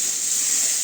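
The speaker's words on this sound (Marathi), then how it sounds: "त्यानंतर तळून घेऊयात." Turmeric, salt and spice masala frying with onions in a hot pan give off a steady, close, bright hiss for a brief moment.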